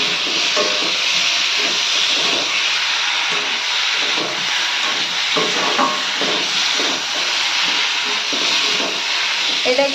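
Lightly boiled cauliflower and potato fry in a pan for a cauliflower and egg curry, producing a loud, steady, dense sizzling hiss that runs continuously and close up, with small crackles throughout.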